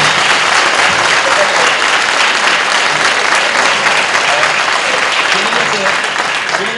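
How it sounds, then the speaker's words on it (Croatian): Full-house theatre audience at a live comedy show applauds steadily and loudly, a dense continuous wash of clapping with no break across the whole stretch. "Može jedan aplauz za Dražića"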